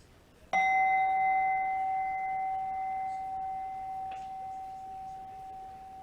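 A single meditation chime is struck once, giving a bright, clear ring that sustains and slowly fades over several seconds, with a faint second tap near the end.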